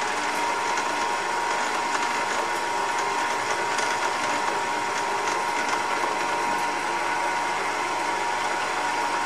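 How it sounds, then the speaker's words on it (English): A drill bores a hole in a metal spare wheel bracket disk for a boat trailer, giving a steady, loud whirring grind with a mechanical rattle that runs unbroken throughout. "Lean over top of the camera and drill a hole."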